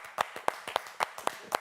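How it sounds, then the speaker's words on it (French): Light, sparse clapping from a studio audience on a French literary talk show, about seven distinct claps in a steady rhythm, fairly faint and close, with no voices over it. "Nolwenn vient de nous quitter, on la remercie, on l'applaudit bien fort, Nolwenn."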